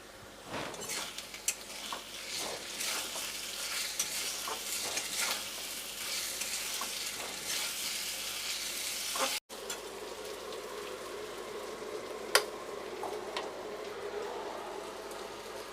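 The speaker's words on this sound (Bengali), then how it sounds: "1/2 টিস্পুন জিরের গুঁড়ো, লাল লঙ্কার গুঁড়ো আর অল্প হলুদ গুঁড়ো দিয়ে মশলাটাকে কষিয়ে নেব।" Ground cumin, red chili and turmeric powder frying in a pan for a cholar dal dish, a steady sizzle with stirring and the occasional scrape or knock of a spoon, one brief sharp clink near the end.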